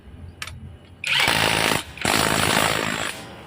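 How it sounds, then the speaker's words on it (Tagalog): Pneumatic impact wrench (matic wrench) from a new sponsor, loud rattling hammering bursts close by: a short blip, then a sustained run, a brief pause and a second long burst as it loosens and tightens. "Ang galing ng tools na to. Matic wrench."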